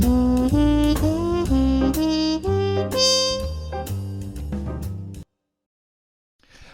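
A sequence of sustained instrument chords moves through a minor two-five-one progression, each chord ringing clearly, then cuts to silence near the end.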